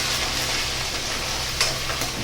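Chicken curry masala fries in a pan in a Kerala-style kitchen, a steady close sizzle with a couple of brief stirring scrapes near the end.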